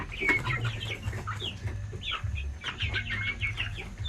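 Native chickens raised for sale cluck close by in a repeated, uneven run of low clucks mixed with higher chirps and squawks, no voices present.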